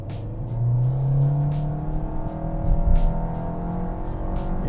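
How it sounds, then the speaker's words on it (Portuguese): A 2022 Fiat Strada Ranch pickup with automatic CVT pulls away hard from a stop, its engine droning up in a steady, rising, continuous tone, close and fairly loud throughout. "eu vou parar aqui no canto e fazer uma saidinha um pouquinho mais forte"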